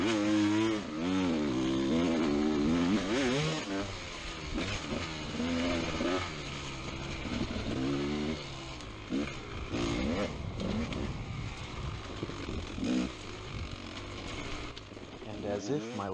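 A GASGAS XC300 two-stroke dirt bike revs hard during a race, its engine note climbing and falling repeatedly with throttle blips, loud and close, with some voice mixed in.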